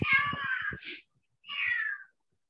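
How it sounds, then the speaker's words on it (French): A cat meows twice in an irritated mood: a long, drawn-out, grumbling meow, a short pause, then a second whining meow. Both are fairly close and clear, with no talk over them. "Il y a un chat qui n'est pas de bonne humeur."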